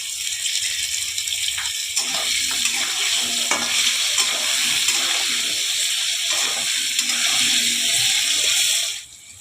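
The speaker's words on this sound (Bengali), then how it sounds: "আলুগুলো ভাজা হতে থাক" Potatoes sizzle and fry in a pan with turmeric powder while being stirred, making a steady, close hissing crackle with occasional scraping. It runs evenly throughout and cuts off abruptly at the very end, with no talking.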